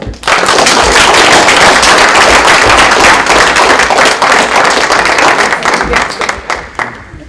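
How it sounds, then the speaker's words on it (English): An audience at an impact-investing learning session claps loudly, a close, busy burst of applause that holds steady before thinning out near the end. "Let's clap."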